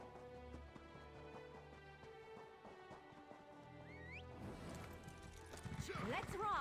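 Horse hooves clatter in The Elder Scrolls Online, a rough clip-clop building and growing louder toward the end amid busy game sounds, with a voice and a rising whinny-like sweep partway through.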